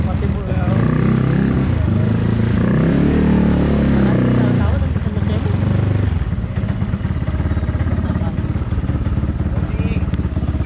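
A Yamaha Mio scooter with a 4-valve engine idles and revs nearby, a steady rumble with some clattering, while people talk over it throughout.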